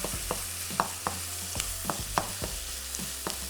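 Minced red meat keema roasting in a pan over lowered heat, with repeated spatula scrapes and taps against the pan in an uneven rhythm over a soft, steady sizzle; close and fairly quiet, no speech.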